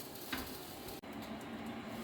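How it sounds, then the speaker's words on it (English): Fried rice sizzles quietly in a pan, a close, faint and continuous frying hiss with a brief dropout midway. "We're just going to be frying this up for a bit."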